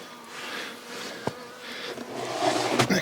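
Honey bees from a backyard hive beside a house near the woods in winter, a soft, steady close buzzing hum with a few brief clicks.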